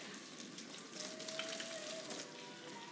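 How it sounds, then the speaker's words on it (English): A kitchen tap runs steadily as hands are rinsed beneath it during stew preparation, giving a continuous close hiss and splash with no talking. "I'm just going to rinse my hands here real quick."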